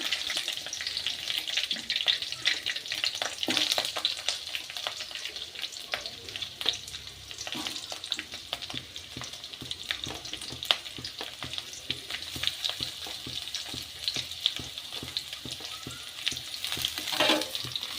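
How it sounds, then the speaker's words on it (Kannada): Green chillies, curry leaves and onion frying in a pan, a dense continuous sizzle and crackle with frequent stirring scrapes throughout, loud and close with no speech. "ಚೆನ್ನಾಗಿ ಫ್ರೈ ಆದಮೇಲೆ ಇದಕ್ಕೀಗ ಆನಿಯನ್ ಹಾಕ್ಕೊಳ್ಳೋಣ."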